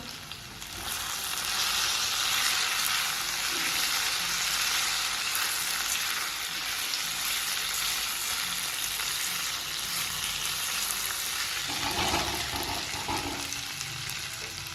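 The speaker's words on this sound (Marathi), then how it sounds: "आता आपण यामध्ये कढीपत्ता टाकायचा आहे।" Curry leaves hit hot oil for a South Indian style sambar, giving a loud, steady sizzle and crackle that runs throughout, with a brief burst of louder spattering near the end.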